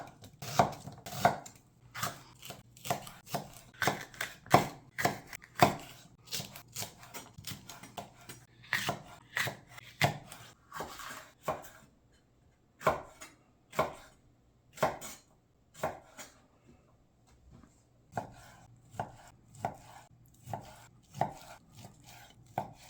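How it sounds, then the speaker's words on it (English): Knife chopping venison, peppers, jalapenos and onions on a cutting board, a long run of sharp, close chops in uneven bursts with short pauses, no talk. "We're going to cut this thin. We're going to cut some peppers up, some jalapenos, some onions"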